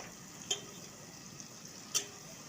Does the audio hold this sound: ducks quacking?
no